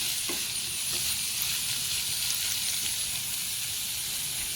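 Onions fry in a pan while being stirred, a steady loud sizzle and hiss throughout, with occasional soft clicks from the stirring utensil and no talking.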